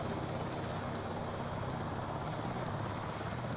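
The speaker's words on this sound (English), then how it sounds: "We need a rescue chopper to come down here." Loud, steady rotor roar of a rescue helicopter in the naval video game Carrier Deck, a dense continuous wash of noise with no talk over it.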